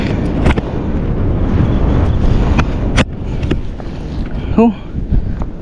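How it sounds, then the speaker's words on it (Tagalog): Strong wind blows on an open shore during a fishing trip to gather a net's catch, buffeting the microphone with loud, steady roaring rumble and a few sharper gusts. "dahil malakas ang hangin"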